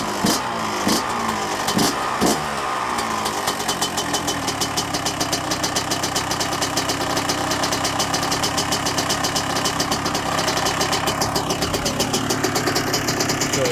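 A Yamaha YZ 125 dirt bike idles after a cold start. Its engine settles into a steady, rapid, raspy putter with a few sharper blips at the start, loud and close throughout, with no talking.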